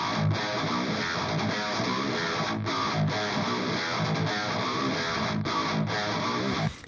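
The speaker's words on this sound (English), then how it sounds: "the guitars themselves sound something like this" Thick distorted djent rhythm guitars chug through a tight, syncopated heavy riff with brief choked gaps, loud and continuous, no voices.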